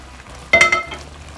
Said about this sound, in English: I'm going to add the fried pepper now, the one I made earlier.